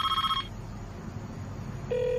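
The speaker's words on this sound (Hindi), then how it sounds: "देखो फोन बज रहा है।" An old landline telephone rings in short electronic bursts, one ring at the start and another beginning near the end, loud and close with a quiet room in between.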